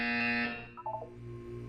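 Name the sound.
buzzer sound in Portal 2 video game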